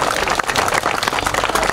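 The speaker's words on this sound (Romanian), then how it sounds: "Haideți să-i mai aplaudăm încă o dată" Audience applause at an award ceremony for junior prize winners in Dărmănești, Romania: a short, dense burst of many hands clapping at steady loudness, with no voices over it.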